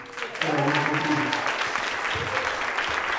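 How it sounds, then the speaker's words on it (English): Audience applause rising for a performer at a hip hop show, steady and fairly loud across the moment, with a voice briefly audible at the start. "Please make another round of applause for EG."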